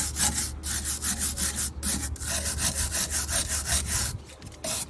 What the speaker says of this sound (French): je donne toujours un petit coup de brosse de fer dessus tant qu'il est fixé